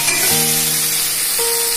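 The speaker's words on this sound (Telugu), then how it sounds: "ఉడికించిన చికెన్ ను అందులో వేసుకోవాలి. బాగా మిక్స్ చేసుకోవాలి." Boiled chicken with garam masala is stirred in a hot pan for gongura chicken, giving a loud, close sizzle with scraping stir sounds and a tonal clink at the start and again near the end.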